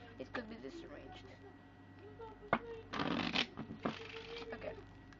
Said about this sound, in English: now after you have disarranged the card or shuffled